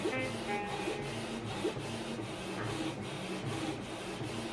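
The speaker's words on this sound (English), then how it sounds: "it's printing nice and slowly" A Canon PIXMA TR8550 all-in-one printer slowly prints an alignment page, its print head sweeping in a regular rhythm of soft rasping pulses, close and steady with a faint motor whine.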